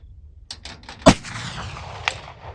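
A single sharp gunshot from a .44-40 firing a duplex load rings out at an outdoor range, preceded by faint clicks and followed by a second, quieter distant report.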